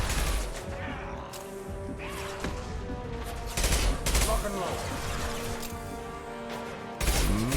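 Sustained gunfire in the video game Mass Effect 2, dense bursts of shots and sharp impacts hammering continuously over a combat background, with louder volleys near the middle and the end.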